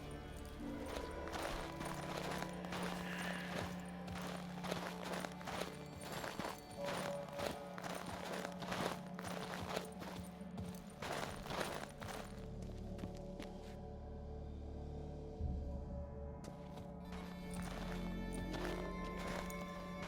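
Horse hooves clip-clopping with occasional neighs in the fantasy game Witcher 3, layered over busy in-game music and effects, steady throughout with a brief quieter gap near the end.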